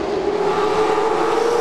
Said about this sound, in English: It's the 38 of Ricky Jones and the 44 of TJ Barron that are battling it out on the backstretch.